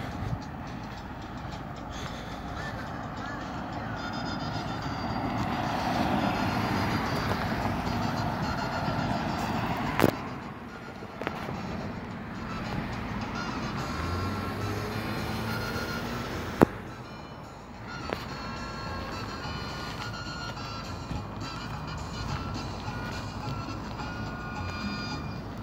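Vehicles pull away after a roadside traffic stop in Fontana, a low rumbling engine and road noise that swells and fades over about twenty-five seconds, broken by a few sharp clicks, with no speech.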